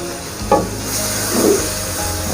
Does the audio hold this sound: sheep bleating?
no